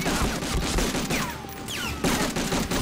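Dense, continuous gunfire from a World War II battle in Medal of Honor: Frontline, with rapid overlapping shots and machine-gun bursts that persist throughout without pause.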